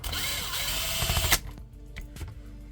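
A Specna Flex airsoft rifle with a BLDC motor, set to 27k speed, fires one rapid full-auto burst: a dense mechanical buzz lasting over a second that cuts off abruptly, followed by a few faint clicks.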